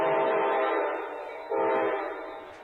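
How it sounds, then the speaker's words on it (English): An Amtrak passenger train horn blows two long blasts for crossings as it enters town, the second starting as the first fades, sounding from a moderate distance. "We can hear Amtrak approaching, whistling for the crossings as he enters town."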